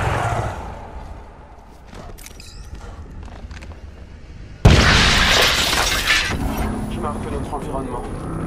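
A frag grenade detonates in the Apex Legends battle royale, a sudden loud burst that cuts through quieter game ambience and leaves a sustained noisy rumble; a voice speaks over the scene.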